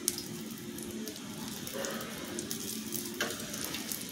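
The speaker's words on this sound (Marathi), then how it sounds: "आपल्याला छान ते खरपूस भाजून घ्यायचं आहे।" Egg-coated bread frying in a pan gives a steady, close sizzle that runs throughout, with a faint scrape or shift of the pan partway through.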